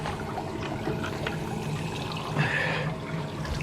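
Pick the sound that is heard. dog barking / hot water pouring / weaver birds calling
hot water pouring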